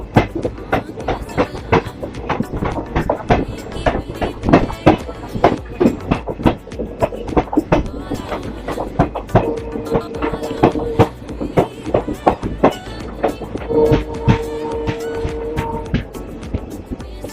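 Empty rake of the Darbhanga–Ahmedabad Sabarmati Jan Sadharan Express rolling past at a Bihar station, with steady rhythmic wheel clatter over rail joints, loud and near, and brief tonal squeals partway through.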